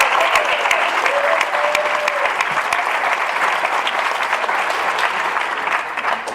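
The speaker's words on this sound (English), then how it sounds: "Give these girls a big round of applause because they're making themselves better." Loud, sustained applause from the crowd at a high school fall sports awards ceremony, a dense wash of many clapping hands that stays close and steady throughout, with a brief faint tone briefly audible early on.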